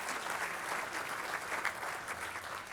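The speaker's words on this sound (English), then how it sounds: "Let's give them all a round of applause." Steady applause from a crowd at a community awards celebration, a dense patter of clapping throughout, somewhat distant and fairly quiet.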